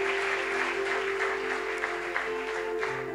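A church congregation claps together during a morning service, steady dense applause running throughout beneath a sustained musical tone, with a few sharper claps standing out.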